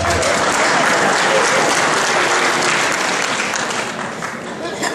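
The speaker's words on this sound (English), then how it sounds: "You can applaud, it's okay." Steady crowd applause at a voters forum fills the room, a dense wash of clapping that holds loud throughout and eases slightly toward the end.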